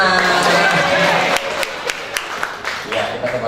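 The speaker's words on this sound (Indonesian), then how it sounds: "Tepuk tangan anak-anak" Children in a classroom clap their hands on command, giving a short run of sharp, uneven claps that follow a stretch of talking.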